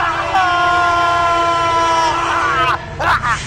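An express train approaches a station with a long, loud blast of its horn held for about two seconds, followed by shorter rumbling and clatter, close by.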